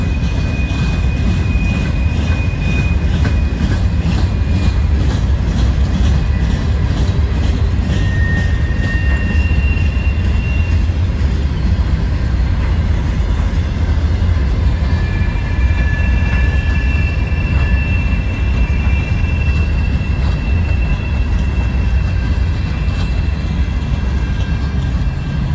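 A Norfolk Southern freight train rolls westbound out of a roundhouse, a loud, steady rumble of wheels and cars that holds for the whole stretch, with faint intermittent wheel squeals riding over the din.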